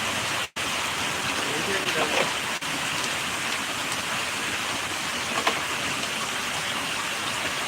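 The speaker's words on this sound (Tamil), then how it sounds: "அது சரியான மழை" Heavy rain pours down in a steady, dense hiss that never lets up, with a couple of brief dropouts near the start.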